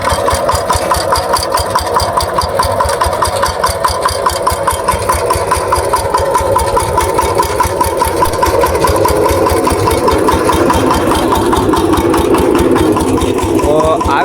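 A tractor engine running steadily during onion seed sowing, a loud continuous chugging idle with a fast regular knock, close by, with voices talking faintly over it.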